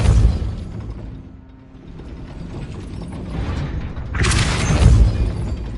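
A gate mechanism in the Hogwarts Legacy video game grinds and ratchets as it raises, with steady clanking gears that build toward a louder heavy rumble near the end.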